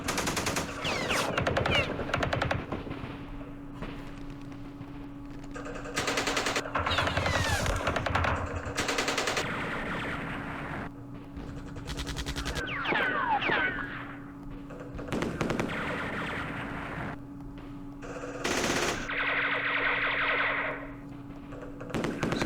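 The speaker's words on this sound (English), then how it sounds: "There's machine guns." Machine gun fire in the Vietnam war game Campaign Series Vietnam, repeated rapid bursts separated by short gaps over a steady background hum, with thuds and metallic pings in between.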